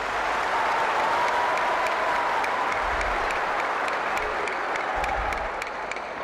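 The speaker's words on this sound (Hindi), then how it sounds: "श्री नरेंद्र मोदी जी का अभिनंदन आइए एक बार जोरदार ताली बजाकर करें।" Sustained, loud applause from a large crowd at an agricultural fair in India, steady clapping filling the whole stretch without pause.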